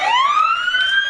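A fire truck siren sweeps upward in pitch, loud and close, holding a rising wail throughout the brief moment.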